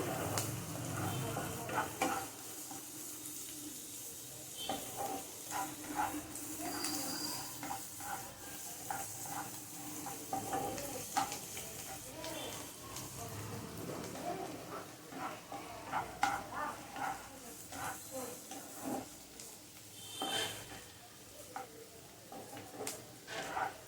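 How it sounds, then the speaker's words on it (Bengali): Onion fries in a pan with a soft, continuous sizzle and crackle, overlaid by repeated light stirring and scraping sounds throughout. "পেঁয়াজটা আমি একটু ভেজে নেব এক মিনিট মতো"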